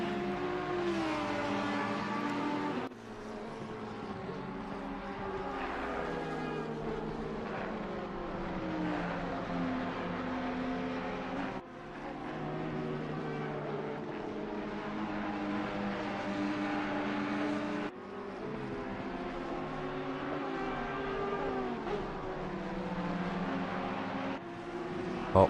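Ferrari GT3 race car engines in Assetto Corsa Competizione at a night race at Brands Hatch drone continuously with rising and falling revs, dropping briefly at gear changes and braking points as the cars run close together.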